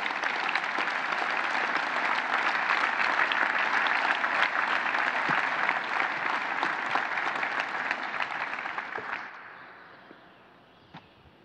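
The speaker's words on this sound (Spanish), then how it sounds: "Yo pido un aplauso para los fundadores de esta gran institución" A large assembly audience at an Infonavit general meeting gives loud, sustained applause in a hall, dense clapping that holds steady for several seconds before tapering off to a few scattered claps.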